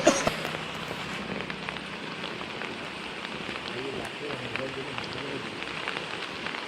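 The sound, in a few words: rain falling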